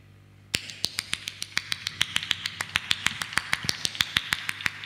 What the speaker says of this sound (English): My clapping's pretty good.